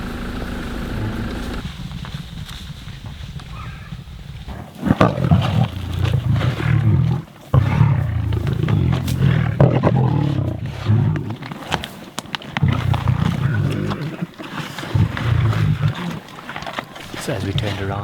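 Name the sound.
lions roaring in thick bush on safari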